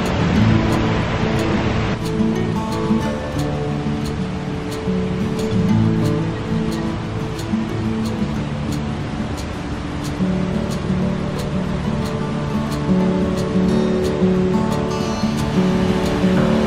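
A waterfall on a day trip between Savage and New Ulm gives off a continuous broadband rush of falling water, steady and fairly loud, with faint tonal sounds layered over it.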